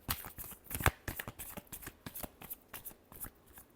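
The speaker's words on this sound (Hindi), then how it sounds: "Last shuffle." Tarot cards are shuffled close up in a quick run of crisp riffling flutters and snaps, with one sharp slap near the start, quiet and with no talking.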